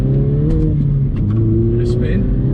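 A Mini John Cooper Works engine hums and revs in normal mode, heard from inside the car as a loud, steady low drone with rising harmonics, while a person talks over it.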